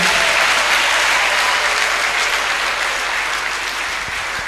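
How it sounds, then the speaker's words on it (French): A church congregation applauds loudly for God, dense sustained clapping that fills the room evenly for the whole stretch without a break. "est-ce que tu peux acclamer très fort pour ce Dieu?"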